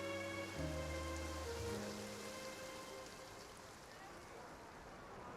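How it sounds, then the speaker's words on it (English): Rain falls in the video game Genshin Impact, a soft, steady patter and hiss that plays under sustained musical tones throughout. "It rained for longer than I suspected."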